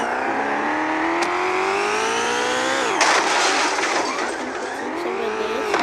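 A car engine in a video game revs in a bright, buzzing whine whose pitch glides up and down steadily, with a rougher, skidding burst around the middle, loud and continuous with no talk.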